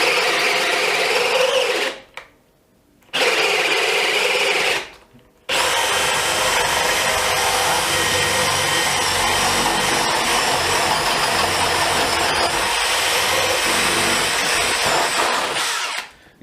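A DeWalt DCD701 brushless 12V drill driving a Bosch self-feeding bit into decking, whining and grinding loud and close in three bursts, two of them short and separated by brief pauses, then one long sustained bore.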